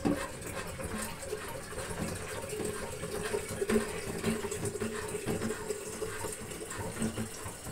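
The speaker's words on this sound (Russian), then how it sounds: "Так, друзья, теперь надо налить сюда водички." Water pouring steadily into an Afghan kazan while making moose-meat shurpa, a continuous close splashing rush that lasts the whole stretch with faint background noise.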